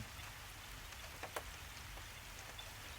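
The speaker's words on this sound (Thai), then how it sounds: "ฝนก็เย็นฉ่ำเลยนะครับ" Steady soft rainfall hissing down through foliage in the Khao Yai forest, where wild elephants roam, with a few scattered drips and ticks standing out against the constant wash.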